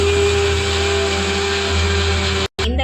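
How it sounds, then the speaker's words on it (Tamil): An electric mixer grinder whirs loudly and steadily while grinding broken coconut pieces into powder. The motor drones evenly, cuts out abruptly near the end, then briefly restarts. "நம்ம மிக்சியில் போட்டு நல்லா தூளாக வர மாதிரி அரைச்சிக்கலாம்"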